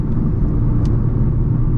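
An Audi TT Coupe Final Icon Black drives at an ordinary, steady pace, giving a continuous low engine and road rumble that stays even and fairly loud throughout, with no talking.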